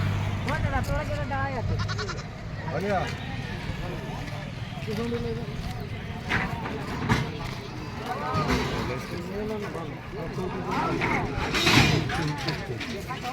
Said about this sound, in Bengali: এই চলে এসেছি ছাগলের হাটে বেশ বড় সড়ো